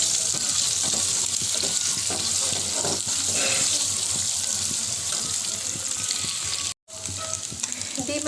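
Duck eggs frying in hot oil, with potatoes sizzling alongside in the pan, a steady dense crackle throughout with occasional stirring clinks and a brief break near the end.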